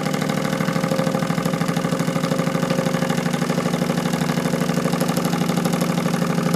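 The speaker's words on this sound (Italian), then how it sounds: "che il motore è partito." A Wilesco D16 model steam engine runs with a fast, even chuffing rhythm, loud and close, its mechanical beat continuous throughout with no talking.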